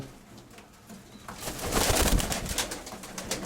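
Pigeons, including Iranian pigeons and squabs, coo softly in a low, throaty rhythm in an old shed, growing a little louder midway, with faint rustling and no talking.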